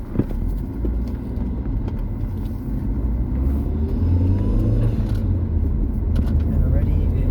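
A VW Golf MK4 GTI with an AGU engine and upgraded Bosch 360cc injectors drives along, its engine rumbling and rising as it accelerates from inside the car, with a person talking over it.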